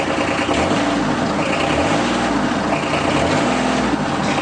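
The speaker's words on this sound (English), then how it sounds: "it's mostly just the engine and the pump noise" A 2016 Kawasaki Mule Pro DXT diesel utility vehicle engine runs steadily and loudly up close, a low droning rumble with a faint cyclic pump whine beneath it.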